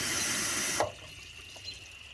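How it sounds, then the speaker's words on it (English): Plain water from a garden hose rushes through a 1986 Dodge Ramcharger radiator in a loud steady hiss, then cuts off abruptly, leaving faint trickling and drips. "I'm just running some water through here, just regular old water out of the water hose."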